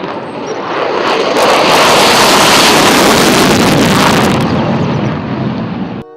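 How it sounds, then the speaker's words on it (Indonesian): Toy fighter jet sound effect: a loud, steady roaring whoosh that swells in over the first second, holds, then eases off near the end, with no talking. "Yang ini ada pesawat jet tempur."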